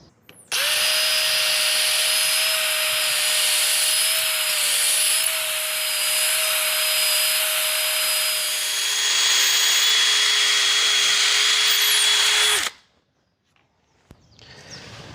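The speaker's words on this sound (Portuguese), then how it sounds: "A broca que eu estou usando para fazer a furação é essa broca longa de 5 milímetros" A power drill with a long 5 mm bit bores into wood during carpentry finishing work, a loud continuous whine for about twelve seconds with slight pitch dips under load, then it stops abruptly.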